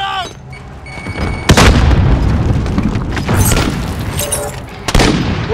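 Grenade explosions in a Call of Duty: Modern Warfare Kill Confirmed match: two loud, sharp booms about three seconds apart, with rumbling gunfire and battle noise in between.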